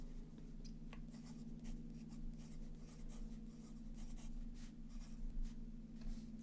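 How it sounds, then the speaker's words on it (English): Fountain pen fitted with a double broad nib scratching across paper, a soft steady scrape with faint strokes over a low background hum, close and quiet, no one talking. "I like this nib because you can write very boldly with it, but it's also great sketching nib."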